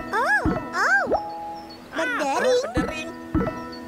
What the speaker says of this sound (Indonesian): Tiba-tiba, Teletubbies mendengar suara berdering.